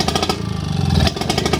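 A British Seagull 102 outboard motor running on its first start after restoration, a rough, throbbing two-stroke chug with the throttle held open, steady and close with a slight dip partway.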